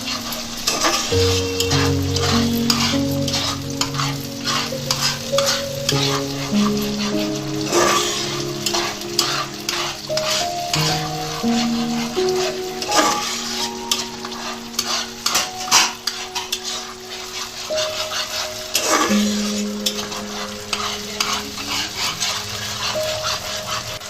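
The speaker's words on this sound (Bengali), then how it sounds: "ভালো করে কষতে হবে" Sugar being stir-fried in a pan while cooking kosha, with a steady sizzle under repeated metal utensil scrapes and clinks, continuous and close for the whole stretch.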